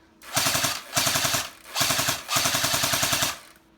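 An A&K M60 airsoft machine gun fires four sustained bursts of rapid, buzzing shots, each lasting about half a second to a second with short gaps between, loud and close with no voices.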